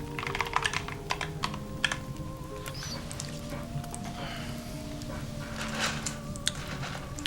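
Fast, uneven clicking of keys on a computer keyboard while coding in C, close and fairly quiet over a faint background hum, with no talking.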